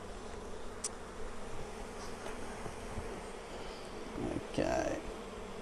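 Honeybees buzz around an opened Flow Hive, a faint steady hum of many insects with individual bees droning close by now and then.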